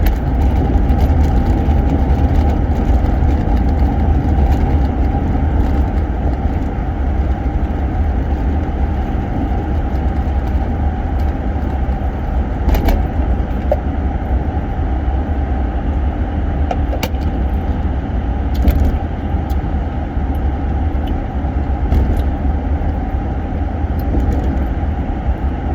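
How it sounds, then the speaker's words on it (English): Heavy road traffic, with many cars streaming past on a busy road, forms a loud, unbroken rumble and roar that stays steady throughout without speech. "A bunch of traffic, so I gotta concentrate here. This is a whole load of cars coming right in here."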